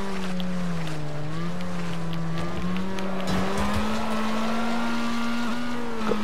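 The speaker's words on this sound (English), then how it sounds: "gotta avoid these crashing cars" Racing cars in Wreckfest with engines whining steadily up close, tires squealing and skidding as other cars crash nearby.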